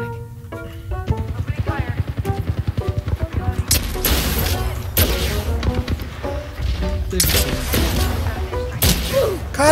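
Rapid gunfire bursts in the video game Apex Legends, loud, dense automatic volleys layered with other game sounds and excited players talking over the action.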